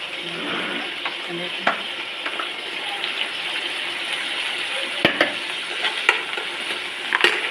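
Urad dal, mustard seeds and dried red chillies sizzle and crackle in hot oil for a tempering, a dense close hiss with scattered sharp pops and a few stirring knocks.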